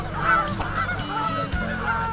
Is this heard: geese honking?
yes